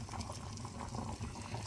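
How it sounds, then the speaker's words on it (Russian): Rusty .45 Colt brass cartridge cases simmer in a pot of water with citric acid, giving a steady, close bubbling and rumbling boil that continues throughout with no talk. "Кипятим гильзы буквально пару минут,"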